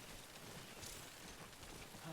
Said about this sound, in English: It's raining everywhere around me.